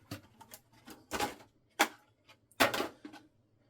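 A Hot Wheels toy car is worked out of its plastic packaging in a few sharp crinkling crackles with brief quiet gaps between them, close and alone.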